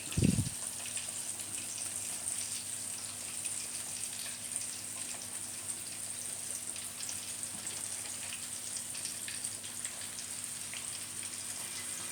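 Steady crackling sizzle of chicken frying in hot oil in a pan, continuous and fairly even throughout, with a faint low hum underneath.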